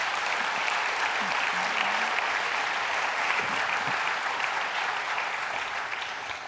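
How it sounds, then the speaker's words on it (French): An audience at a public debate applauds a re-elected mayor with dense, sustained clapping that fills the whole stretch at steady loudness and eases off slightly at the end. "On peut l'applaudir."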